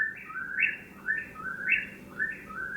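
A person whistles an imitation of a bird call, three repeated rising two-part phrases in steady rhythm, fairly close and clear.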